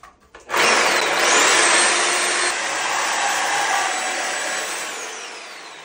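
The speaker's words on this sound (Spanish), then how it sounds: "Vamos a cortar el tubo con la ayuda de un soso." A shower drain pipe is cut with a saw. A loud, continuous high-pitched whine starts abruptly after a brief pause and holds steady for several seconds, then eases slightly toward the end.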